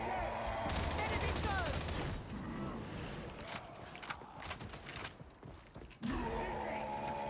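Video game gunfire fired in short controlled bursts, rapid crackling volleys broken by brief gaps, moderately loud, with faint game ambience between bursts.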